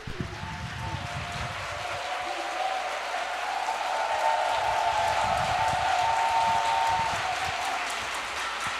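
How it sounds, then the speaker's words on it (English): An audience welcomes a speaker with sustained, even applause from many hands, steady and fairly full, under a faint tonal hum from the hall. "Let's welcome him up with a warm round of applause"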